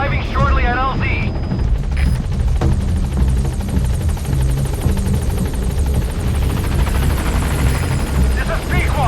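B-Quad helicopter from Metal Gear Solid V: The Phantom Pain arriving, a loud, steady rotor drone with a low rumble that holds across the whole stretch, with a brief radio voice near the start.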